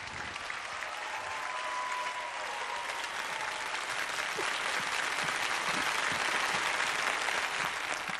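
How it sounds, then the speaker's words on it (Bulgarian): A studio audience gives sustained applause for a harmonica duo on a talent show stage, dense steady clapping that fills the room at an even level throughout. "аплодисменти за Елен Колева и Ники Георгиев!"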